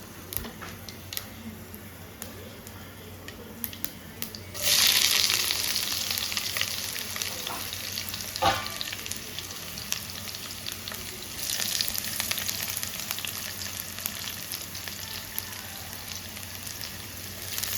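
Onions fry in a pan for chicken liver, a steady sizzle that jumps louder midway and swells again later, with a few stirring clinks and no talking.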